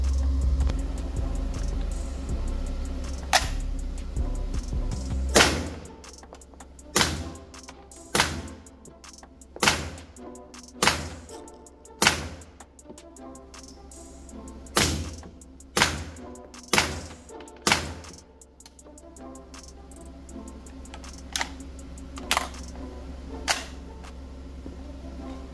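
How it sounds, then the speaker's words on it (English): Nine-millimetre rounds are pressed one by one into a Kriss Vector magazine, producing a series of sharp, distinct clicks at irregular intervals over a low steady hum, close by with no talk. "So I'm gonna load me about 10 more rounds in here."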